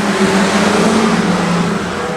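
A full field of eleven street stock race cars roars off the start at Redline Raceway, a loud, sustained engine drone with steady low tones and no voices.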